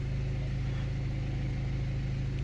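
BMW E91 engine idling smoothly after an exhaust and powertrain CAN communication fault was repaired, a steady low rumble heard up close and alone.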